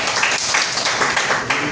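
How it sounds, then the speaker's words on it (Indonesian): A classroom of students claps together on the teacher's cue, loud close clapping in rough rhythmic waves of hand claps lasting under two seconds. "Ya, tepuk tangan dulu."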